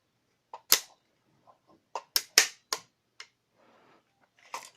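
Sharp mechanical clicks from the safety lever of a King Arms Kalashnikov sniper airsoft rifle, single and in quick pairs, irregularly spaced with quiet gaps between them, close up and fairly crisp.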